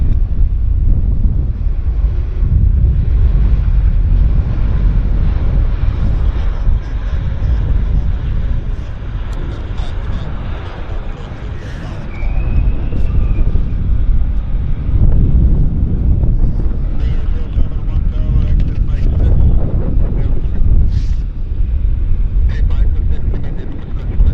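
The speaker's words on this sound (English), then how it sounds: "So much wind." Strong wind buffets a microphone on a tripod at Vancouver Airport, a loud, continuous low rumble that surges and eases in gusts for the whole stretch, with faint voices in the background.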